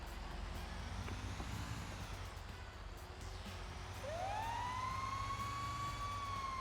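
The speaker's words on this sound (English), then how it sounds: "Sirens." An emergency vehicle siren rises out of a constant low traffic rumble, starting faint and then sweeping up into a loud, sustained wail that carries on steadily.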